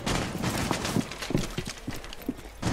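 Bursts of gunfire in a multiplayer shooter match fire in short, uneven volleys over steady game ambience, with several sharp cracks spaced through the stretch.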